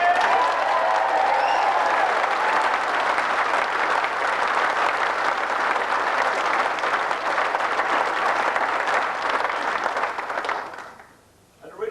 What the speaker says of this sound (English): I'd like you to give him a special round of applause